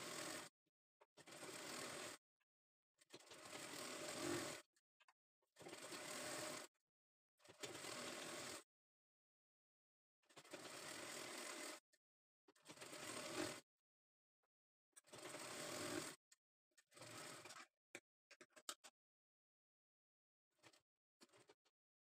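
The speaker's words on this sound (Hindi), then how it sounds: "यहाँ हमें इस किनारे को रखना है और इसे स्टिच कर देना है" A sewing machine stitches lace onto folded cloth in repeated close bursts of whirring, each run lasting one to two seconds and separated by short silences, with a few brief clicks toward the end.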